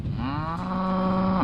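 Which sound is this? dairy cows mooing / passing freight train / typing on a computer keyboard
dairy cows mooing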